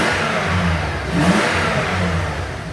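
An old 325 car engine that has been running away revs steadily, its loud, close mid-pitched drone swelling briefly in the middle before settling back to a sustained roar.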